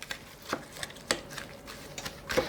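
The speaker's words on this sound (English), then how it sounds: "So now I'm going to stir my crackers in here." Saltine crackers being stirred into a salmon patty mixture in a bowl, a series of close, soft thuds and scrapes in an irregular rhythm.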